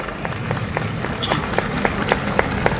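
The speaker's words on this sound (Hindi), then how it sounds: "सब लोग तालियों से उनका स्वागत करें।" Audience applause welcoming the state governor at a large public gathering in Bathinda for Sri Sri Ravi Shankar's visit, a steady wash of many hands clapping at moderate volume with no talk over it.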